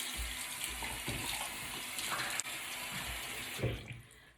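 A bathroom tap runs steadily into a sink while face product is washed off, a close, constant hiss of flowing water with a few soft splashes of hands in the stream.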